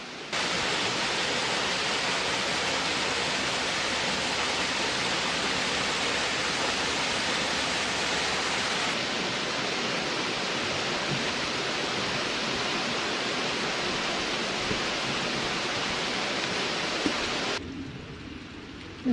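Steady rushing water of Martin Creek flows continuously at a crossing, a broad close hiss like a creek over rocks, shifting slightly in tone partway and near the end.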